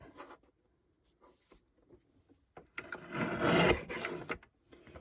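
A paper trimmer slices through four stacked card strips in one close, rasping sweep after some quiet handling noises, with faint shuffling afterwards.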